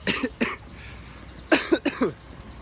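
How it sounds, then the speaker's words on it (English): Several sharp coughs close to the mic from a person recovering from a cold: two quick ones, a pause, then a cluster of three or four in fast succession. "Excuse the coughing."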